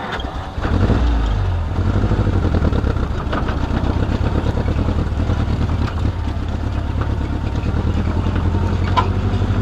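A Jeep M38A1 engine runs loud and close after starting, holding a rough, steady idle-like rumble with slight rises in pitch, continuous for the whole stretch without talk.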